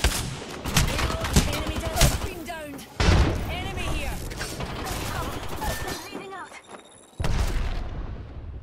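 Rapid gunfire bursts and booms from an Apex Legends-style battle royale match crackle in dense volleys, with a loud impact near three seconds and another near seven, mixed under game effects and a player's talking.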